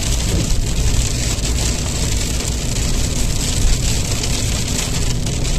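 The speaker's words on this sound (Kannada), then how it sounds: "ಆಲಿಕಲ್ ಬೀಳ್ತಾ ಇದೆ ಮಳೆ ಬಂದು ನೋಡಿ ನನ್ನ ಗ್ಲಾಸ್ ಮೇಲೆ ಬೀಳ್ತಾ ಇದೆ" Dense, steady pattering of hail striking a glass surface at Herne Bay, a continuous close clatter with no voices.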